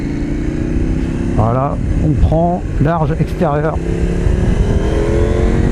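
KTM Duke 890 motorcycle accelerating hard from a start, engine revving up through several rising bursts as gears change, loud and close beneath someone speaking French.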